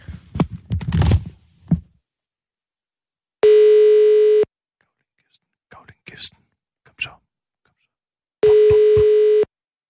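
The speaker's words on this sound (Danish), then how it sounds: "Sissel, ringer du op til Ulla?" A telephone ringback tone sounds twice as steady, close electronic beeps on the handset, each about a second long. Whispered and murmured voices and some rustling fill the quiet gaps between the rings.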